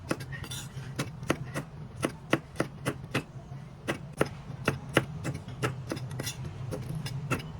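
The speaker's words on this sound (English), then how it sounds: "Cut our beans like this." A knife chopping French beans on a board for siomai soup, a steady run of about twenty crisp taps at an even pace, close and fairly loud over a low kitchen hum.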